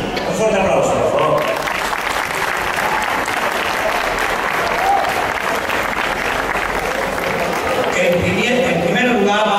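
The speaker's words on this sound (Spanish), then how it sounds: "Un fuerte aplauso, por favor." A loud, sustained ovation from the audience at a flamenco festival in Cájar, Granada: dense, continuous clapping from a large crowd that holds strong for nearly ten seconds.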